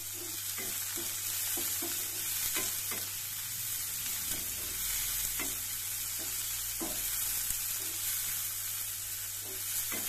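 Finely chopped onions fry in a pan with garlic, a steady close sizzle broken by repeated spatula scrapes and stirring knocks, with a low hum underneath and no voices.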